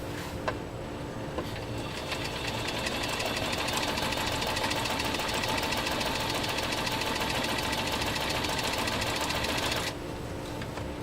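New Home 660 sewing machine, freshly serviced, straight-stitching through 10 oz leather at a shortened stitch length, a fast steady mechanical chatter running evenly for about eight seconds before stopping.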